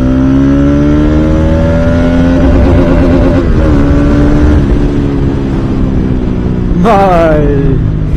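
A loud modified exhaust on a 200cc motorcycle during a group ride, a sustained throaty engine drone with rising and falling revs and a sharp revving burst near the end, close and dominant.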